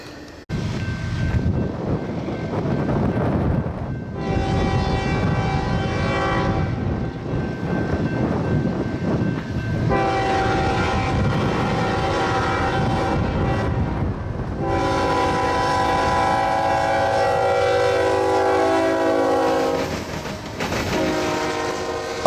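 A freight train hauling a special toxic waste shipment passes at Fostoria, with GP60, CSX 1853 and UP 2010 locomotives. Loud, sustained horn blasts sound several times over a steady close rumble of rolling cars.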